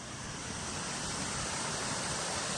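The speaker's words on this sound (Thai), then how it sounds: "เดี๋ยวเราชมน้ำตกด้านล่างก็พอครับ" Phu Soi Dao Waterfall in Thailand roars as a constant, loud, broadband rush of falling water, steady and unbroken with no voices over it.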